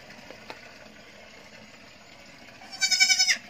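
Goats on a mountain farm bleat in a short, wavering burst near the end, after a stretch of quiet background hum with a faint tap.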